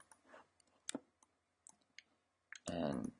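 Computer mouse clicks during 3D modeling work in Cinema 4D, a series of small sharp ticks spaced irregularly at close range, followed by a louder burst of sound near the end.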